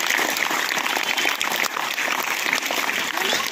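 Children and staff at an English-medium school event on oral health give a dense, sustained round of applause that fills the room, loud and close, from start to finish.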